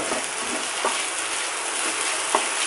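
Food sizzles steadily in a hot frying pan while being stirred, a dense continuous hiss with faint scraping strokes from the utensil now and then, close and without speech.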